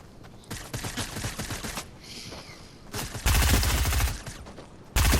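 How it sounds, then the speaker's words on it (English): Gunfire in Fortnite, including an SMG, rattles in rapid crackling bursts, some farther off and lighter, others close and heavy, broken by short gaps. "when this guy starts shooting at me"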